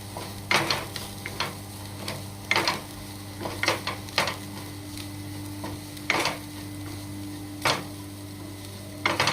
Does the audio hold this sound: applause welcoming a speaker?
no